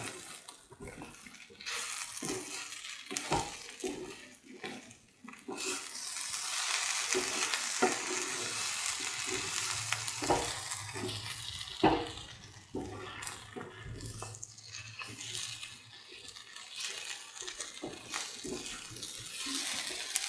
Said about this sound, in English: Mix the turmeric into the mixture.